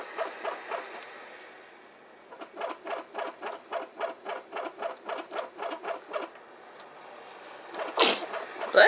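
A single sharp sneeze bursts out near the end, close and loud, following a long run of soft rhythmic pulsing sounds in a quiet room.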